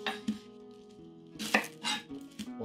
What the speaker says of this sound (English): I'll cut this onion in half.